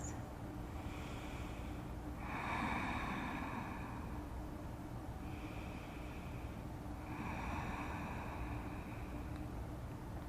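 Slow, audible breaths during a yoga forward fold, with long inhales and exhales rising and falling over steady background hiss, in a quiet room and without talk.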